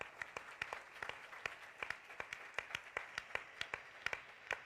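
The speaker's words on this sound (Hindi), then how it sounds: "भाई डेनिस, ताली बजा सकते हैं आप" A church congregation claps in a steady, even rhythm, with quiet, distinct, evenly spaced beats repeating throughout.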